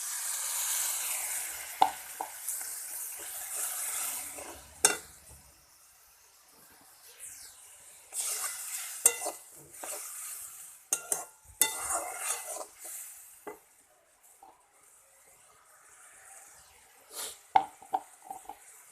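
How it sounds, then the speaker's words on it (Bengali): Spice paste (masala) stirred and fried in a pan with a little water: bursts of sizzling alongside scraping and clattering from a spatula against the pan, close, in uneven spurts separated by quieter stretches. "এবার ভালো করে মশলাটা কষে নেব"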